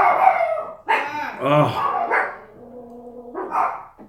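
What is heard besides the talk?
dogs barking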